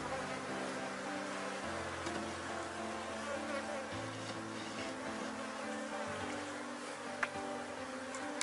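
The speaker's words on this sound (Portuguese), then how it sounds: "O enxamezinho tá bastante agressivo, gente, porque quando a gente tá dividindo um enxame" Dense, continuous buzzing of an agitated honeybee swarm surrounds the listener while a colony is being split into a new hive, with the hum rising and falling as bees fly close.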